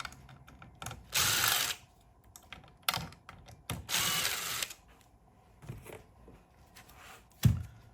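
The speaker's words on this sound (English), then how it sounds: "There's 2 number 2 screws on the bottom. Remove those." Screws being removed from a 2011-2013 Jeep Grand Cherokee radio chassis with a power driver, giving two short whirring bursts separated by small clicks and handling noises, quiet and close.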